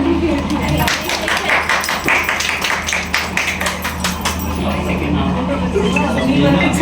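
An audience in a district hospital hall in Sidhi keeps up fairly loud, scattered applause during a World Breastfeeding Day celebration, heard under overlapping voices and room chatter.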